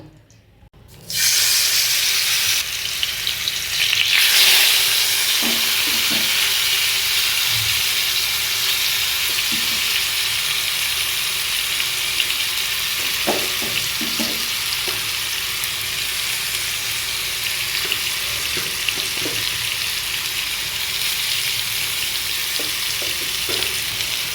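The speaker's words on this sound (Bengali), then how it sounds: "এবার আবার তেল দিয়ে দিচ্ছি আরও যে দুটো মাছ আছে সেই দুটো ভাজা করার জন্য" Two fish fry in hot oil in a home kitchen pan, a loud, continuous sizzle that starts suddenly and holds steady, with occasional soft clinks and stirring sounds mixed in.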